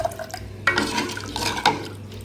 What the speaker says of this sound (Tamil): போட்டு நல்லா கலந்து விட்டுக்கோங்க.